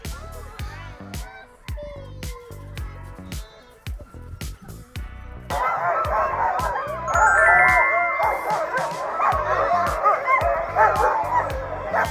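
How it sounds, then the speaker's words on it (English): Excited sled dogs at a Seward, Alaska kennel bark and yip loudly before a run, a dense, rapid chorus of overlapping barks with high whines building into a continuous clamor. "here come the dogs. And boy, oh boy, were they excited"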